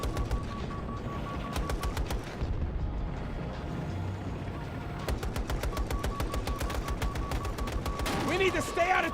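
Rapid bursts of video game gunfire crackle in short volleys, with steady automatic shots repeating amid background game sounds and a speaking voice.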